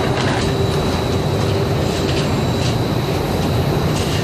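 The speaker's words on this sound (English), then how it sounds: "The batch goes through a 2-hour rinse cycle, and the denim takes a pummeling from the stones," An industrial stone-wash machine tumbles denim jeans with stones through a rinse cycle, giving a steady, loud, continuous rumbling churn with no breaks.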